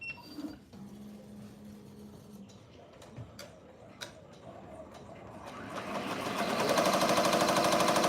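An embroidery machine sews a tack-down stitch with a steady, quiet mechanical ticking and a few sharper clicks. Toward the end it speeds up into a louder, denser whir, and no one speaks.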